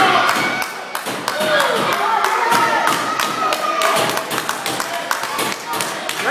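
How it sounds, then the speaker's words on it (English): A wrestling crowd cheers and claps at a championship wrestling event, punctuated by sharp thuds of bodies hitting the ring mat, with a commentator's voice talking throughout. "Crowd really cheering on Billy here."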